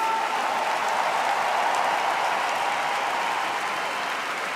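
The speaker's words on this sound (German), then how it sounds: "Gebt ihm mal einen Applaus!" A huge stadium crowd in Düsseldorf applauds steadily for a show band and dancers, a loud, even wash of clapping that holds without a break from start to finish.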